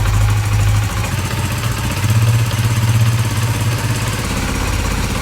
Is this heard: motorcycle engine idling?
yes